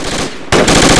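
Machine-gun fire in the military shooter Project Reality, a loud, close rattling burst that pauses briefly and then resumes even harder.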